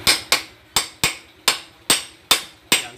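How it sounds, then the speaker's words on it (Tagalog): A hammer taps a timing gear into place on an engine, eight sharp metallic strikes in quick, slightly uneven succession, each ringing briefly before the next, close up with no talking. "Yan, suwabing pukpok lang."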